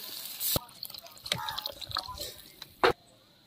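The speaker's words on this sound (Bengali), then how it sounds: "মশলা কষানো হয়ে গেছে, এবার আমি জল দিয়ে দেব" Water poured into fried spice masala for a rohu fish tail curry, heard as a couple of short, close splashing bursts separated by quieter bubbling.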